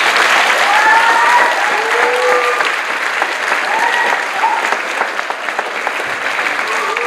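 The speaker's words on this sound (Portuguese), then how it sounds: "Uma salva de palmas para eles todos" Steady applause from a crowd fills the whole stretch, dense and loud, with a few faint whistles rising above the clapping.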